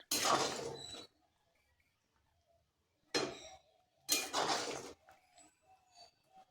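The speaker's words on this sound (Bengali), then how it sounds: "এবার এটাকে ঢাকনা দিয়ে মিনিট 2 ঢেকে রাখবো।" A metal lid is set over a cooking pan of thickened gravy. It sounds like a few separate clanks and scrapes with quiet gaps between them, near and fairly faint.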